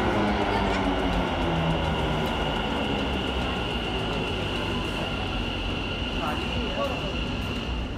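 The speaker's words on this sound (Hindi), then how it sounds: "मेट्रो आ गई है," A metro train pulls into a station in Gujarat, a loud, steady rumbling roar with a sustained electric whine and faint squeals throughout, with voices murmuring underneath.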